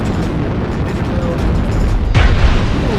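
An artillery strike explosion in the MechWarrior video game: a loud low boom bursts in near the end, over a dense rumbling battle background.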